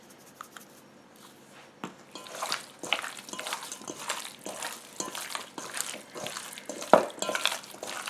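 Raw chicken wings tossed with garlic, green onion and smoked paprika, wet squelching and slapping of mixing in a bowl, close and moderately loud, with scattered sharper smacks and a louder clack near the end.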